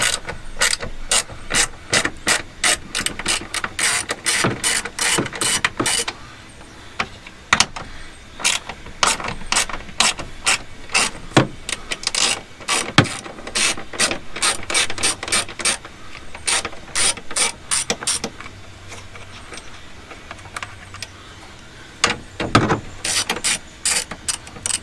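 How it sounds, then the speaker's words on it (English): A ratchet wrench removing 8mm bolts on a Ford 6.0 diesel engine, rapid close clicking bursts repeated over and over with brief pauses between bolts, no talking. "The next step we're going to want to do is remove these bolts."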